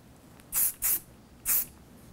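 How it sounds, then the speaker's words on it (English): Three quick bursts of hairspray hiss out while hair is being styled: two close together, a pause, then a third, each short and airy against a quiet room. "So light burst of spray."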